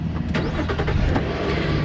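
A car with a weak, failing battery cranks and fires up on a Lokithor jump starter, a loud, close, dense engine roar with rough rhythmic pulses filling the whole clip, no talking.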